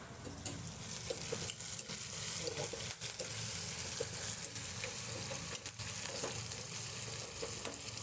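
Chopped onions sizzle steadily in a hot pan for a Konkani-style tender jackfruit curry, a continuous frying hiss broken by occasional scrapes and stirs of a spoon, close and fairly quiet with no talking.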